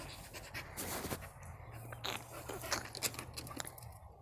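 A dog pants in quick, soft, breathy bursts close by, a rapid uneven rhythm of huffs with nothing else around.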